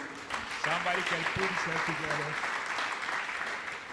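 A church congregation applauding to acclaim the Lord, steady crowd clapping throughout, with a voice speaking over it.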